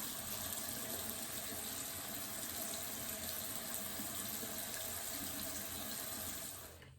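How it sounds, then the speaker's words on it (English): Steady running warm water splashes continuously from a tap into a basin while rinsing a face, loud and close, fading out at the very end. "Now I'm going to rinse with warm water."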